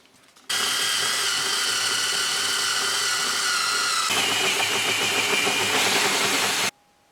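A power drill with a 20 mm bit whirs loudly and steadily for about six seconds, its pitch shifting partway through as it bites into material, then stops abruptly.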